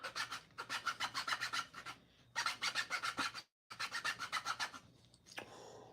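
A hand saw cuts through wood in three runs of quick, rhythmic rasping strokes, close and fairly loud, separated by short pauses.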